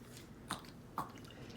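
A dog chews a freeze-dried apple, giving two quiet, crisp crunching bites close by against a soft background hum.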